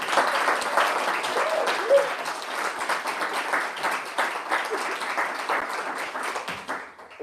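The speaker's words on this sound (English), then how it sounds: "biggest round of applause for Federico." A crowd at a food and technology sharing event gives Federico warm applause, dense clapping at a steady moderate level for several seconds that thins out and fades near the end, with a faint voice or cheer mixed in.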